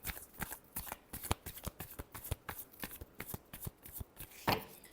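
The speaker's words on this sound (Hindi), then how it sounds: "Last shuffle." Tarot cards being shuffled by hand, a quick irregular patter of crisp papery slaps and riffles, close and fairly quiet, with no speech.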